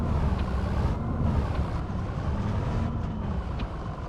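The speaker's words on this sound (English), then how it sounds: "I'm trying to manoeuvre the tractor and trailer underneath the auger here to get this filled up." A tractor pulling a trailer in the Farming Simulator game, set on an Iowa cattle farm, hums with a steady low engine drone throughout, even and unbroken.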